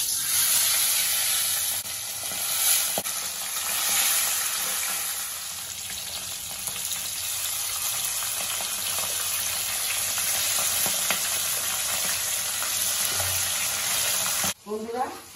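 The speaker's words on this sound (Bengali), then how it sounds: "বন্ধুরা তেল গরম হয়ে গেছে, এবার আমি এক এক করে মাছগুলো ছেড়ে দেব।" Salted, turmeric-rubbed tilapia sizzles steadily in hot oil in a home kitchen, a constant close hiss of frying lasting throughout, with a short clatter near the end.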